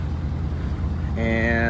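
A truck engine idles steadily with a low, constant rumble, close by; near the end a higher tonal whine rises over the idle.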